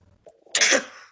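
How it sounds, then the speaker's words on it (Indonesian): A single cough from a student with an unmuted microphone during an online maths class, a short sharp burst standing out near and loud against quiet room noise. "Itu siapa yang batuk?"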